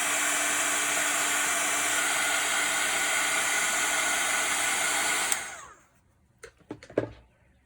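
A heat tool blasts hot air over freshly stamped ink in a steady, loud, even whoosh for about five seconds, then cuts off, leaving a few soft handling clicks and taps.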